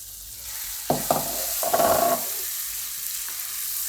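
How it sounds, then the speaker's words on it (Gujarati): A spoon stirs onion-tomato gravy cooking in oil for a Gujarati onion-tomato curry, giving a few close scraping strokes over a soft steady sizzle, with no talking. "આ રીતે હલાવતા રહેવું એકદમ તેલમાં સરસ ગ્રેવી આપણી પાકી જાય ત્યાં સુધી"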